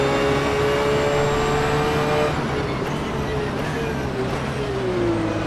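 Porsche 911 GT3 R race car engine in the rFactor 2 sim at Imola, a loud continuous engine drone with the pitch slowly falling, heard alone and close.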